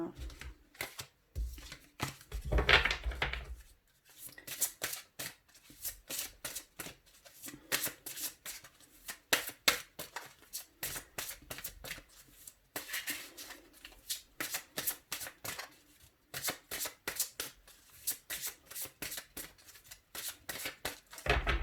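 A deck of oracle cards shuffled by hand, rapid riffling flutters and soft slaps repeating in bursts over about twenty seconds, close and clear, with a few quieter pauses.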